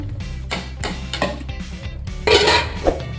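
Part-cooked rice tipped into an Ambur dum biryani pot, with clanking metal utensils scraping and knocking against the vessel in a series of close, uneven clinks, without talk.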